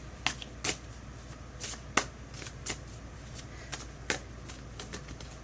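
Fortune-telling cards being shuffled by hand, a series of quick crisp riffles and snaps at irregular intervals over a quiet room hum, close and clear, with no talking.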